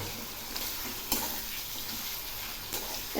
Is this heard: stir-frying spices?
yes